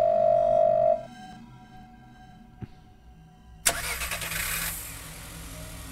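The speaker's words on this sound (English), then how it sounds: "Prank this, and then a car rams into the infirmary." Car crashing into an infirmary in the Chinese horror game Firework: a low hum drops away, a sharp knock sounds, then a sudden loud impact gives way to a roaring engine and rattling noise that fades.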